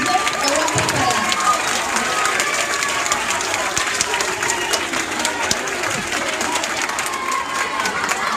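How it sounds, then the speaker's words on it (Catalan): Sustained applause from a lively audience at a Sant Jordi school celebration, busy and continuous, with crowd murmur and scattered cheers mixed into the clapping. "Un aplaudiment molt gran al centre de la Pintor que ho ha preparat."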